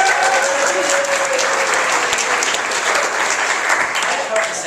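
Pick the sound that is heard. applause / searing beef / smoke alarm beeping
applause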